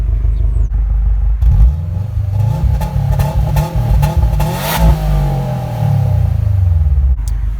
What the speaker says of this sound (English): Of course, your quad exhaust down here. We'll give a listen to those.